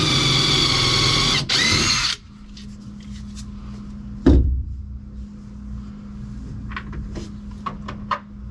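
A power drill pre-drills a fiberglass tonneau cover, whining loudly and steadily for about two seconds, then stops, leaving a quiet room with a few small knocks and clicks.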